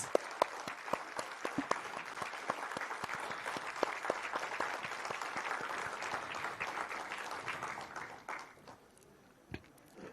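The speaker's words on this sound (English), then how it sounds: "A big round of applause" A meditation conference audience breaks into applause, scattered sharp claps building into steady clapping that fades out near the end.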